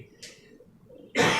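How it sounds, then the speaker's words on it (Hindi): A single sharp cough from a man during a Hindi lecture, loud and close, bursting out at the end after quiet breathy room noise. "सॉरी खांसी हो रही थी।"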